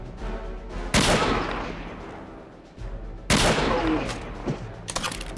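Gunfire in the World War II shooter RealRTCW comes in two loud, close bursts of rapid shots. A quieter stretch with rumbling effects separates them, and a few sharper cracks follow at the end.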